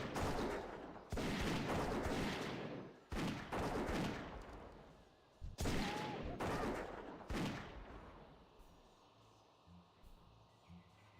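Shooting orcs in World of Warcraft: dense bursts of rapid gunfire in several loud volleys, then fading into a quieter outdoor ambience with insect-like chirps.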